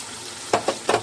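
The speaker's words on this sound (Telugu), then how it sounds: "ఇప్పుడు మనం ప్రిపేర్ చేసుకున్న మసాలా అయితే ఇందులో వేసేస్తాను" Prepared masala tossed into a pot of simmering mutton gravy curry: three short, close scraping and sizzling bursts over a quiet background, with no talking.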